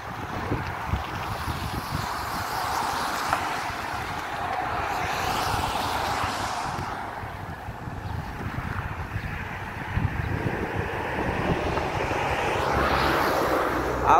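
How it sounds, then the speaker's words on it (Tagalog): Strong wind roars steadily, a broad rushing noise with low buffeting that swells and eases without pause. "Ngayon ang lakas ng hangin."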